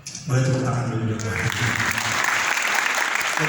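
Audience applause at a physical culture talk, a dense burst of clapping from a crowd that starts after a brief voice and keeps going strongly to the end, with voices mixed in.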